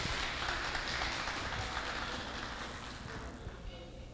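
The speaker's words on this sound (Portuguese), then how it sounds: "com a salva de palmas dos senhores." Dense, steady applause from a seminar audience welcoming a guest speaker to the panel table, filling the room with an even wash of clapping that thins slightly toward the end.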